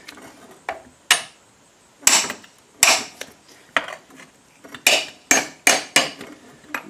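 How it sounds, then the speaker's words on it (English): A wrench works the castle nuts on the lower ball joint of a 1965 Ford Mustang, producing a series of sharp metallic clanks and ratcheting taps in uneven rhythm, close and loud, with no talking. "I'm just loosening the nuts now, the castle nuts, bottom ball joint."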